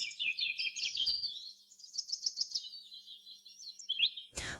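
Birds chirp and twitter in a deep forest in quick, bright bursts, fairly close and alone, with a sharp louder call at the end.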